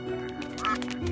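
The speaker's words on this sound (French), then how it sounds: "C'est cet oiseau!" An animated bird lets out a short series of raspy, duck-like quacks close by, quiet and abrupt over a faint background.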